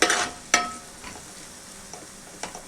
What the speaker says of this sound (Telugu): రెండు స్పూన్లు పసుపు వేసిన తర్వాత ఇలా కలుపుకోవాలి.